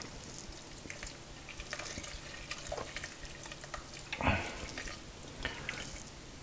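Hot water is poured into a pot of green beans with olives on a home stove, making a quiet, steady trickle and splash that runs throughout.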